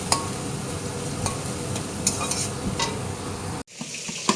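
Onions for beresta sizzle in hot oil while a utensil scrapes and stirs through them in bursts, steady frying throughout; the pan goes abruptly quiet near the end, leaving only faint ticks.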